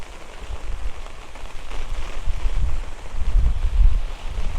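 Strong wind gusting across an open pepper field after heavy May rain, heard as a loud, uneven low rumble of buffeting against the microphone that swells in waves, with no voices.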